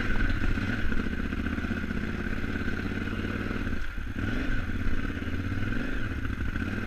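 A KTM 950 motorcycle labours through deep ruts on a narrow Colorado mountain trail, its engine drone loud and steady throughout, with clattering and scraping from foot pegs dragging the ground and a brief dip near the middle.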